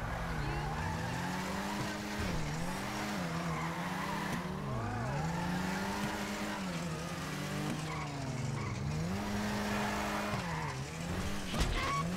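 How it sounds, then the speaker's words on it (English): An Elegy car drifting in a racing video game: a sustained engine drone rises and falls while tires squeal continuously through several long slides, loud and close, with a short bump near the end. "Get a couple of really good drifts in here"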